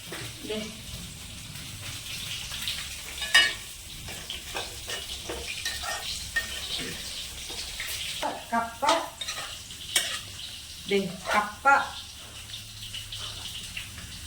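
Curry leaves crackle and sizzle in hot coconut oil while a spoon scrapes and stirs in uneven bursts; a voice speaks briefly in between.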